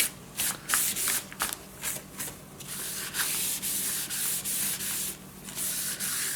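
Glued paper is burnished down on a handmade mini scrapbook album with a series of brisk, close rubbing strokes, each a dry scratchy swish in an uneven rhythm, with no talking.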